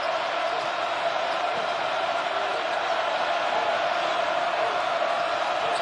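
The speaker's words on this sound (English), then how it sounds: "Mizzou Arena coming alive." Inside Mizzou Arena during a Missouri basketball game, a big crowd roars steadily and continuously, a thick, unbroken swell of cheering that holds at the same level throughout.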